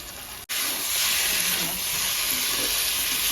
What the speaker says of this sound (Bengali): ম্যারিনেট মাংস দিয়ে দিল।